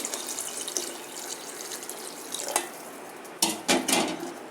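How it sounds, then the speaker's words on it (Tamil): Water splashes and trickles as it is poured into a pressure cooker holding a Tamil-style goat intestine curry, a soft steady flow with a few louder splashes near the end, no talking. "இதுக்கு நான் இப்போ தண்ணி சேர்க்குறேன்"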